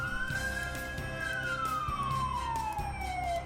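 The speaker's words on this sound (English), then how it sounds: "Check the siren" A fire engine siren being tested during a daily pre-trip apparatus inspection, a loud mechanical wail that rises briefly then slowly winds down in pitch, heard close over a low engine rumble, with no talking.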